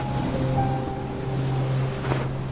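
Steady washing roar of sea surf rolling in, close and continuous, with a low droning hum running underneath throughout.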